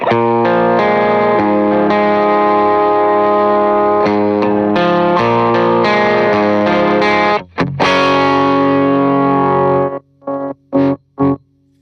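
A heavily driven, distorted electric guitar through a Supro-style preamp pedal plays sustained chords, then stops and hits a few short, choppy stabs, loud and close.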